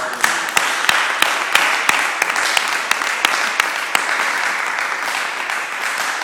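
A church congregation claps and applauds during worship, dense continuous applause with sharp individual claps standing out, loud and close throughout.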